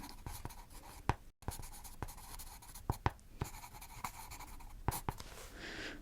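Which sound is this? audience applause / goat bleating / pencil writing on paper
pencil writing on paper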